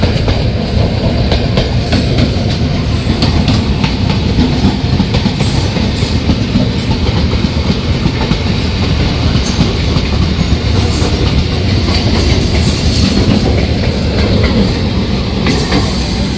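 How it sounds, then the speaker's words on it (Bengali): A Majerhat–Barasat local train passes alongside a moving express near Dum Dum Junction in Kolkata, a loud continuous roar of wheels and carriages with rhythmic clickety-clack and faint squeal throughout. "এটা বোধহয় বারাসাত লোকাল যাচ্ছে"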